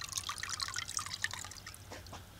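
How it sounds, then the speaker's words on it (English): Water drips and trickles out of a gold pan as it is emptied while panning black sand, a quiet, close stream of small splashes and patters that thins toward the end, with no talk. "Let me get this water out of here."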